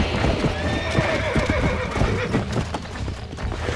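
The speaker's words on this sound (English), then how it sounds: "Hey, the stallion's getting away." A horse in the Red Dead Redemption game gallops with rapid pounding hoofbeats and lets out a loud shrill whinny, close and dense, with no voices.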